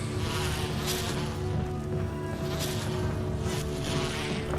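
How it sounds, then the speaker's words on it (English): Dense bee buzzing fills the Resident Evil Reformed game scene, a continuous loud insect drone with swelling waves of wingbeat noise and no talk. "More bees."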